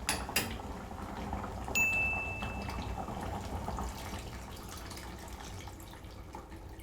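Tamarind water poured into a simmering pot of traditional Tamil Nadu sambar, a soft continuous liquid trickle and splash under faint kitchen noise, close and quiet with no talk.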